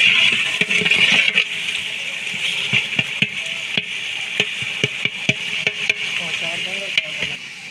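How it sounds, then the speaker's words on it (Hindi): Stock (yakhni) poured into a large pot of frying masala and tomatoes for keema pulao, giving a steady hiss and sizzle with repeated stirring clicks and scrapes, close and moderately loud. "अब हम इसमें यखनी डालेंगे थोड़ी सी, ज़्यादा नहीं डालेंगे"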